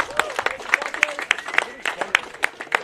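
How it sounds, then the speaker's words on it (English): An outdoor crowd at a Finska championship claps for the sponsors, with a sparse, irregular run of distinct hand claps rather than a dense roar. Voices murmur underneath. "A round of applause for all of our sponsors."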